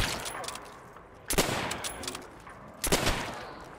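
A gun firing in Black Ops 3 Zombies: two loud, sharp shots spaced about a second and a half apart, close and punchy over a noisy game background.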